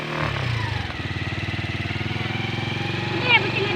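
A Honda TMX 125 motorcycle with a sidecar idles nearby, its single-cylinder engine thumping in a steady, rapid pulse that rises slightly toward the end, while people talk over it.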